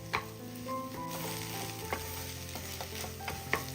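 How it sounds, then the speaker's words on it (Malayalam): Potato mixture stirred and mashed in a pan while it cooks, soft scraping and knocks of a spoon over a low continuous sizzle, with a few louder taps. "എല്ലാം കൂടിയിട്ട് ഒന്ന് മിക്സ് ചെയ്തെടുക്കാം."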